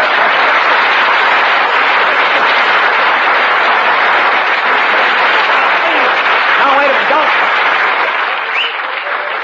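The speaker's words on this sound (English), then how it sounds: "Don't applaud, please." Applause from a 1947 radio studio audience at a live comedy broadcast fills the whole stretch as a loud, steady roar of clapping, with a voice briefly speaking over it near the end.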